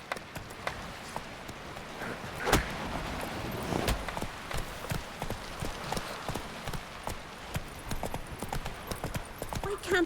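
A horse's hooves clip-clop steadily in The Witcher 3, a rapid rhythm of sharp footfalls at moderate level, with occasional louder knocks.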